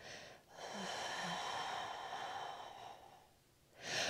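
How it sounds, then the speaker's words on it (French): Loud, deliberate breaths during a lateral thoracic breathing exercise in a flat-stomach workout: a long, rushing exhale held for several seconds after a short pause, then a fresh breath starting at the end, with no talking. "N'hésitez pas à adopter une respiration un peu plus sonore. Inspirez, ça va vous aider. Et soufflez ici"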